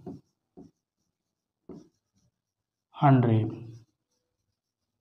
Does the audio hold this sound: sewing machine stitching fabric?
no